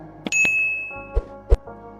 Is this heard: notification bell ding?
yes